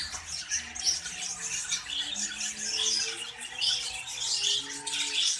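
Finch chicks in a colony cage squawk and beg in a steady, high, chattering stream while their father feeds them, close and moderately quiet with no talking.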